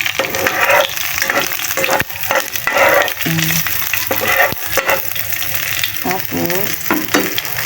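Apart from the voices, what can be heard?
garlic sizzling and frying in an old pan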